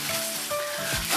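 Food sizzles steadily in a hot pan for a breakfast bagel prepared with cannabis butter, a continuous close hiss with small crackles and stirring, no talk.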